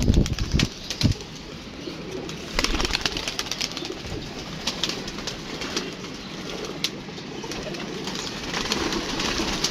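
Pigeons being let out: repeated sharp bursts of wing flapping, loud and close, with soft cooing underneath in a continuous outdoor background.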